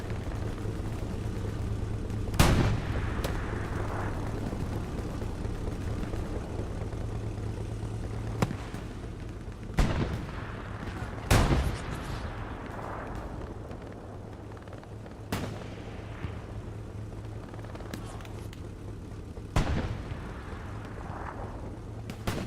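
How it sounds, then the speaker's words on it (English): Long-range tank rounds firing in the Hell Let Loose video game on a snowy Kharkov map, several heavy booming shots spaced seconds apart over a constant low rumble of engine and battlefield noise. "Trying to fire some long-range rounds right now."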